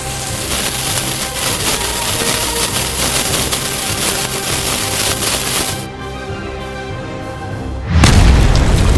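Diwali firecrackers set off outdoors, heard as a dense crackling rush that cuts out briefly before a loud, deep boom bursts in near the end, close and without talk.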